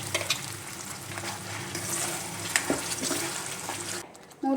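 Ground masala paste hits hot oil and ghee for matar paneer, bursting into a loud, dense sizzle with spatter pops that runs for about four seconds, then cuts out abruptly near the end.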